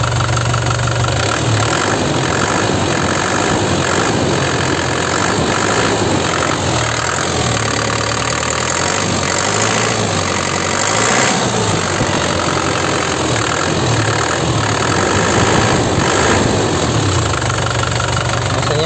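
A 2013 Grand Touring car engine runs close by with the cap off, holding a loud, steady idle with a continuous mechanical drone and slight swells as the throttle is touched, and no speech.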